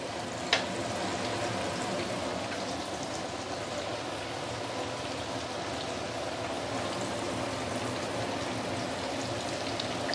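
Chicken pieces frying in hot oil give a steady, dense sizzle and crackle that holds evenly throughout, close and loud, with one brief sharp pop near the start and no voices.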